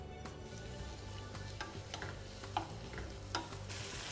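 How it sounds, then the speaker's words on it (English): Shallots and red onion fry in olive oil in a pan over medium heat, a low, steady sizzle broken by occasional stirring scrapes and small pops, heard close and without talk. "we're going to start off frying off our shallots"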